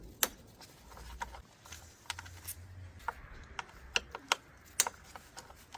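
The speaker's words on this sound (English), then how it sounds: "So we're going to remove 10mm bolts." A ratchet clicks in short, quiet bursts of rapid ticks while loosening the 10mm coil pack bolts on a 2019 Suzuki Swift engine, with a few sharper metallic taps in between.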